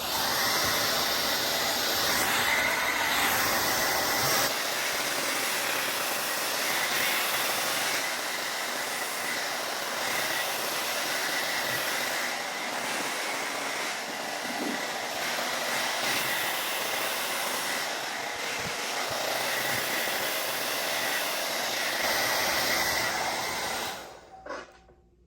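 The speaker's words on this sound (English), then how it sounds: "I'm just gonna use the hair dryer" A hair dryer blows steadily as it dries freshly cleaned Raging Bull 5 sneakers. Its loud, even whoosh runs continuously and alone, then cuts off abruptly near the end.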